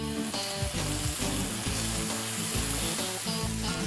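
Broth poured into a hot pan of tender vegetables for a Thanksgiving stuffing hisses in a loud, dense sizzle right up close, with steady bubbling crackle and no talking.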